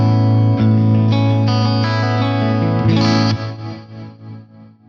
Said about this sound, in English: this reverb with amplitude modulation on the trails is